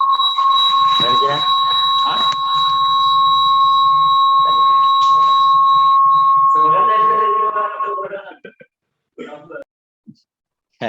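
A phone ringtone or alarm goes off in the audience at a business talk. It is a loud, steady electronic tone that persists under someone talking, then cuts off near the end.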